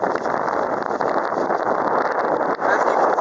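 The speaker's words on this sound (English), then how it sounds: "Kind of windy" Strong wind gusts roar across a microphone at a sheep farm in Australia with large pens, a steady broadband rush with brief dips.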